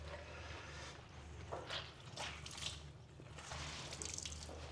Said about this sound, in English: So I really end up wringing out these clothes twice.